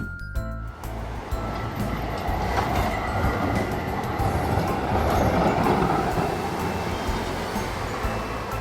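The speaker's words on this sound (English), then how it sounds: "Tram." A toy tram rolls along with a steady, dense rumble and clatter that stays at an even loudness throughout, with no voices over it.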